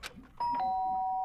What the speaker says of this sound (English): The sharp sound of the doorbell pierced my sleepy haze and pulled me back to the real world.